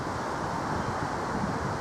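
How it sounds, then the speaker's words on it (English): Steady broadband wind buffeting a microphone outdoors on a windy day, a constant rumbling roar with no breaks and no voices. "If there's any noise from the wind, I'm sorry, but it's quite a windy day"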